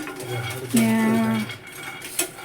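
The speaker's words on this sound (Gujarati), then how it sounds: "અત્યારે જો મખાના શેકાય છે" A utensil scrapes and clinks against a metal pan while fox nuts roast, with a short ringing squeal partway through and soft rattles after.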